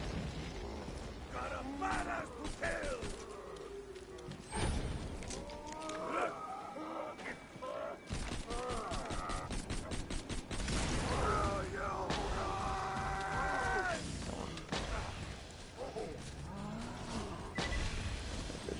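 Rapid bursts of gunfire from the shooter game Borderlands 2 cut sharply through dense game effects and voices, with a quick volley of shots clustered near the middle.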